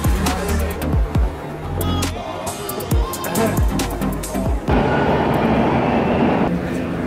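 A subway train arrives at a Toronto metro station, loud rumbling and rail clatter with repeated clunks and squeals, then a steady broadband roar as the cars pull in close.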